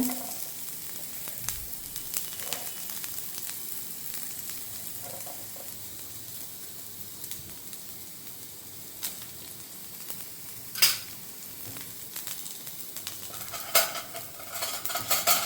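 Chopped onions and dried red chillies sizzling in hot oil in a pan for a Tamil dried-fish curry, a steady frying hiss broken by occasional metal scrapes and clinks of stirring.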